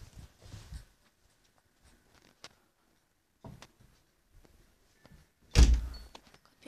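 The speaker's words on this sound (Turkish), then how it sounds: "Kapıyı kapattım arkadaşlar" A car door thuds shut in a LEGO car video game, a single solid slam near the end after a few quieter clicks and bumps in an otherwise hushed scene.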